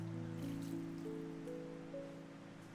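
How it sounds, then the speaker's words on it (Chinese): Okra is rubbed and rinsed by hand in cold water, giving faint, continuous soft swishing and trickling over a steady background tone. "稍微抓洗一下，使秋葵快速的涼透。"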